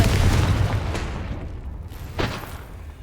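The Confringo blasting spell in a Hogwarts video game bursts into a loud, rumbling explosion that decays over a few seconds, with a second, smaller boom following.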